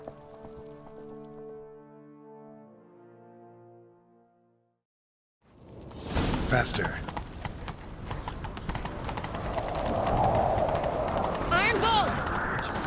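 Horse hooves clip-clop at a gallop in The Witcher 3, a quick steady rhythm of close, loud hoofbeats over wind and ambient game sound after a short stretch of music, with brief spoken lines over it.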